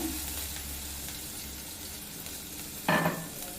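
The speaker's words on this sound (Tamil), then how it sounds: "கடுகு பொரிய ஆரம்பிச்சிட்டு இப்போ இதில் சதைச்சி வச்சுருக்கிற பூண்டை சேர்த்துக்கோங்க" Mustard seeds and crushed garlic frying in hot oil for a ladies' finger fry, a faint steady sizzle with a low hum early on and a sharp clatter near the end.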